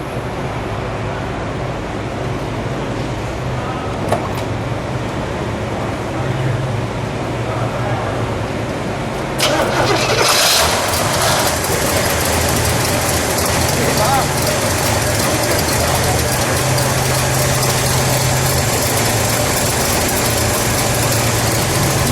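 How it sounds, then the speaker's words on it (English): A 1970 Oldsmobile Cutlass W-31 with a 350 V8 turns over and catches, then settles into a loud, steady, rumbling idle close by, with talk heard over the engine before it starts. "Let's fire it up, shall we?"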